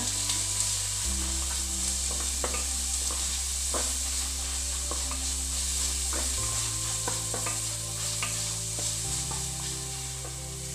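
Tomato and curry leaves for squid sukka fry in hot oil with a constant close sizzle, punctuated by occasional light stirring scrapes, over a steady low background hum.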